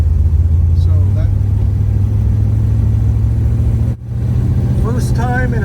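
A loud, deep supercharged hot rod engine idles with a heavy rumbling lope, briefly dips, then picks back up, while people talk over it nearby.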